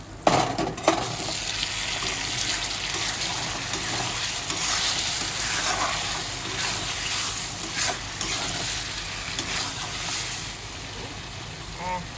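Spiced masala sizzles and spits in hot oil in a pan, a dense continuous crackle with some stirring scrapes near the start, close and moderately loud with no talk.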